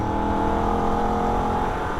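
A Holden VF Ute runs flat out on the Nürburgring in third gear, its engine a loud, steady, high droning roar with a slowly rising pitch, heard close and alone.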